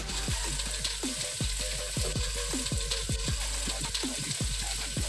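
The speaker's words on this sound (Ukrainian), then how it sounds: "І тепер на середньому вогні обсмажуємо близько 3-4 хвилин." Turkey fillet sizzles steadily in hot oil in a frying pan over medium heat, with a continuous bright hiss and occasional bubbling pops throughout.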